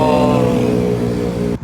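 A delivery rider's motorcycle engine idles steadily up close at a loud, even level, a constant droning hum that cuts off sharply at the end.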